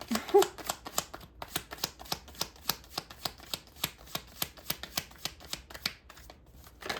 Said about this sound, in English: I hate sitting here shuffling.